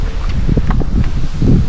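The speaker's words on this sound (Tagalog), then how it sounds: "Lakas hangin dito." Strong wind buffeting the microphone at a rainforest campsite in Tanay, Rizal, a steady loud rumble with rustling and faint movement, no clear talking.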